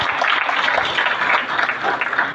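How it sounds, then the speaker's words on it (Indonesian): Audience applause at an Indonesian political party gathering, a dense, steady wash of many hands clapping that runs loud and unbroken for the whole stretch. "kita berikan tepuk tangan yang meriah."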